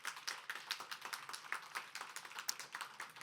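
People in a church congregation clap in a steady, fairly faint patter of many hands, with no talking over it.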